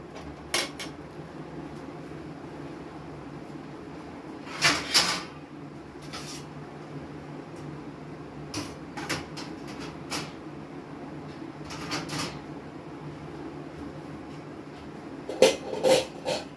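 Dishes clattering in a home kitchen as a bowl is scrubbed, with sparse clinks and knocks against a quiet background, fairly faint.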